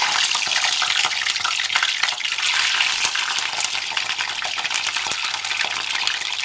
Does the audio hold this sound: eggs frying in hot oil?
yes